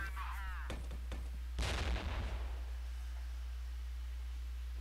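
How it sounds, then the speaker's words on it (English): Flashbang grenade going off in the Flash game Infiltrating the Airship, a sharp cartoonish burst after a short warbling tone and a few clicks, followed by a fading crackle over a constant low hum. "Well, let's go with flashbang."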